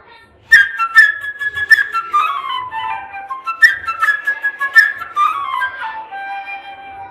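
A transverse flute plays the bird theme from Peter and the Wolf, with bright, quick trilling phrases and rising runs in two clear bursts, close and alone.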